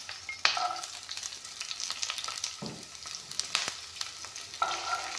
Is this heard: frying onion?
yes